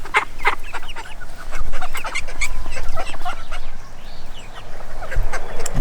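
A flock of Red Mottled Ancona bantam chicks cheeps and peeps close by in a busy overlapping chorus, with occasional soft thumps and scuffles.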